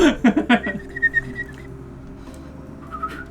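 A man attempts to whistle a few times, producing short, breathy, faltering whistle tones up close with no steady melody, the last one faint and wavering.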